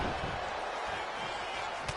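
Forearm strikes landing in the WWE 2K25 wrestling game, a dense, continuous slam-like thud over steady crowd and commentary noise, with no single blow standing out clearly.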